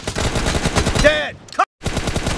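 Rapid automatic gunfire in a shooting video game rattles densely and loudly, broken by a short tonal call and a sudden silent gap before the firing resumes.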